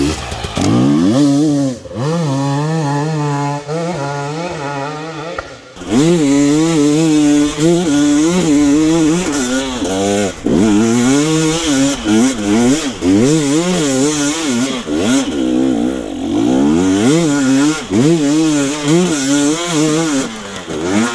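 A GasGas EC 300 2022 two-stroke dirt bike screams at full throttle up a steep, hard hill climb, its loud, raw engine note rising and falling with brief revs and a short drop before surging again.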